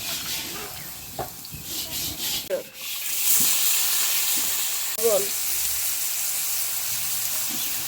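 Raisins and cashews frying in a pan, a steady broadband sizzle running the whole time with a few brief stirring scrapes and faint, indistinct voice-like bits, close and moderately loud.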